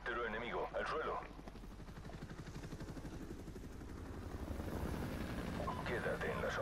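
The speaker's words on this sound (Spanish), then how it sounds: "Helicóptero. Helicóptero enemigo, al suelo." Enemy helicopter in Call of Duty: Modern Warfare Remastered, a steady rotor drone flying overhead and filling the whole stretch beneath two players talking, with brief bursts of other game noise.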